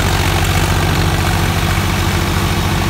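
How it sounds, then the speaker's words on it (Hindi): A tractor engine powers a cutter at 1800 RPM, making a loud, steady, low throbbing drone with a constant mechanical hum close by. "चल भाई चमन भाई, 1800 RPM पर कर दिया कटर, 1800 पर"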